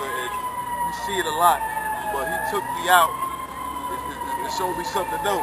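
An emergency vehicle siren holds a steady tone in the background while someone talks close up over it.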